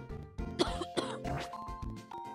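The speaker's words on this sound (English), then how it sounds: "I'm still coughing a lot" Coughing fits from a person who has been ill, a couple of harsh bursts close to the microphone, set against game music playing in the background.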